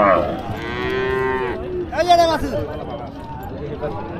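A female calf at a village cattle market in Nakla, Sherpur, Bangladesh lets out two close, loud moos, the second higher and more strained, with some shuffling noise around them.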